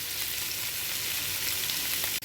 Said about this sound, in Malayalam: അങ്ങനെ നമ്മുടെ മത്തി ഞാൻ ഫ്രൈ ചെയ്യാനിട്ട് ഫ്രൈ ആയിക്കൊണ്ടിരിക്കുന്നു.